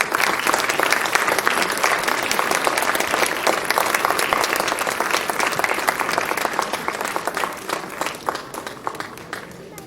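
Audience at a school annual day prize ceremony claps steadily and loudly, a dense sustained applause filling the whole stretch with no voices standing out.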